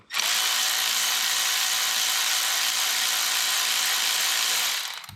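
A power ratchet whirs steadily for about five seconds, close and loud, spinning out loose bolts on a Chevy Cruze 1.4L engine, with no talk over it.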